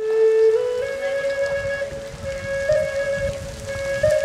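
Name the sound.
rain falling on a lagoon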